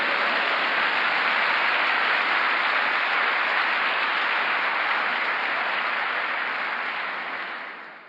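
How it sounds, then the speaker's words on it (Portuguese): Congregation applauding during a Sunday church service, a dense continuous wash of clapping, loud and even, tapering slightly at the end. "Vamos dar um aplauso a esse Deus maravilhoso?"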